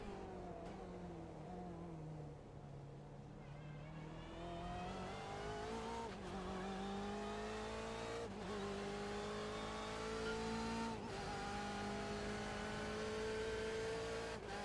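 A BMW race car at Laguna Seca in the iRacing video game, its engine droning steadily with rising pitch and sharp breaks at gear changes as the front tires lock up, continuous and fairly faint.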